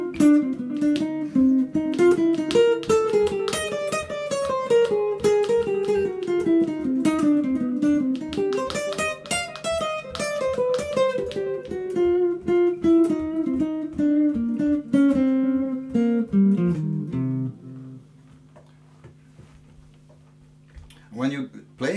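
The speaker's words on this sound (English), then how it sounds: "So if I play a chorus on this in a little slower tempo, it can sound like this if I play a lot of chromatics." A jazz guitar chorus solo at a slowish tempo, full of chromatic passing tones: a steady run of plucked notes for about seventeen seconds, ending on a held note that fades.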